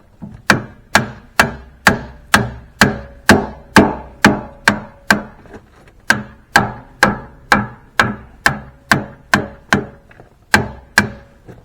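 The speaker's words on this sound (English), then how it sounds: "you can walk around it with a hammer and beat on it" A hammer beats on the cylinder pin of a CAT D5C bulldozer in a long, even series of about twenty loud, sharp blows, roughly two per second, with short ringing decays and no talk.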